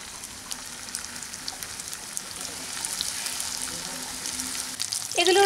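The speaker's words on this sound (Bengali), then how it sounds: "এখন আমি পনিরগুলোকে ভাজার জন্য তেলের মধ্যে দিয়ে দিচ্ছি।" Marinated paneer pieces fry in refined oil in a kadai, giving a steady, close sizzle and crackle throughout, rising slightly toward the end.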